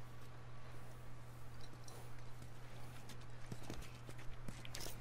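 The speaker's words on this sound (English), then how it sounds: "You guys have horses." Horse hooves clip-clop at a slow walking pace in The Last of Us video game, steady and fairly close over a constant low hum.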